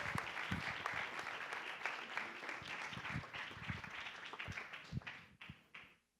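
An audience at a digital business festival applauds for about six seconds as people are invited onto the stage, a dense, moderately distant clapping that thins out and fades at the end.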